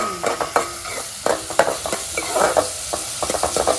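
Onions sizzle in hot oil while a spoon scrapes and stirs the pan in irregular strokes, close and busy, with no talking.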